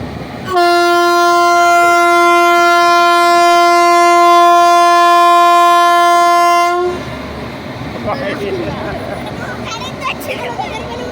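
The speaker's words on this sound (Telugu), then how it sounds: "ట్రైన్ ఇంజన్ ఇది" A loud, sustained passenger train horn blares for several seconds, then cuts off, leaving the clatter and rumble of the engine with some background noise.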